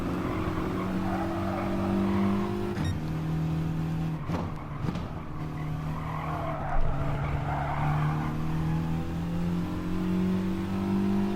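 A race car engine drones through corners at Interlagos in a racing video game, its steady tone stepping up as gears shift, with brief tire squeals and no talk.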